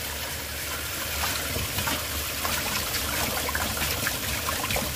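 Steady running water rinses cooked Japanese somen noodles to cool them, a close continuous trickle and splash with no voices.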